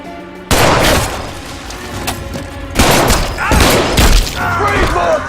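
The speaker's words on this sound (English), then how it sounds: "Shots fired." Gunfire in an action movie scene, a loud close burst of several sharp shots and booms in uneven succession, with shouting voices mixed in.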